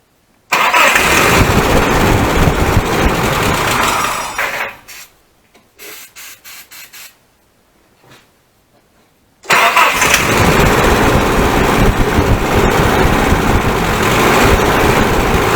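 Nissan Hardbody pickup engine, on a fuel fault, fired up on starting fluid: a loud hissing spray, then a few short cranking bursts and a catch, with a loud, rough roar at the start and again at the end.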